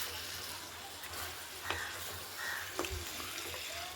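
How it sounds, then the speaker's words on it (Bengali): Chicken with masala and ground black pepper sautés in a pan, giving a faint, low sizzle with a few soft scraping stirs and small clinks, and no talking. "তারপরে মাংসটাকে ভালো করে ফের কষিয়ে নিতে হবে"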